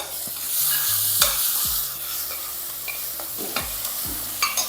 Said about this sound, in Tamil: எல்லாத்தையும் ஒன்றா சேர்த்து நல்லா வதக்கிக்கலாம்